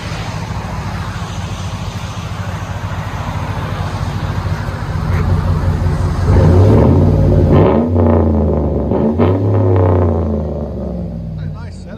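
A 2009 GMC Sierra with a 5.3L V8 and Flowmaster Outlaw dual exhaust rumbles loud and close, swelling into deep revs in the second half while people talk over it.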